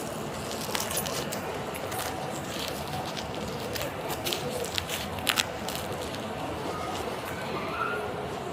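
Keys jangling inside a police car where they were left on the dashboard, a few soft metallic clinks and rattles over a steady background hum, with quiet talk in the car.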